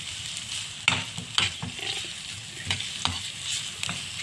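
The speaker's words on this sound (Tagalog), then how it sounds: "Tapos, haluin natin." Corned beef and onions get stirred in a hot frying pan, sizzling steadily up close, with a utensil scraping and knocking against the pan every second or so and no talking.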